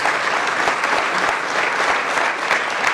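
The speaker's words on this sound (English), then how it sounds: "So let's give GM and Mark Royce a round of applause" Audience applause at a business breakfast event, a loud, dense, continuous roar of many people clapping together, steady for three seconds with no speech over it.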